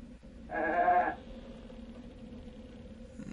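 A short, loud sheep bleat from the 101 Dalmatians Animated Storybook game, a single nasal wavering call lasting about half a second, followed by a quiet background hum.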